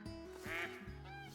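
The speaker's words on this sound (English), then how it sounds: "Those were the geese that were circling." Geese circle over hunting grounds and give several loud, nasal honks in quick succession, heard clearly at moderate distance and alone.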